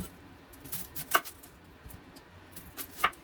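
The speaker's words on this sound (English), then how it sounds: "I'm going to be slicing my onion" A knife slices an onion on a cutting board in a home kitchen, with a few soft, separate strikes against the board that are faint and spaced apart.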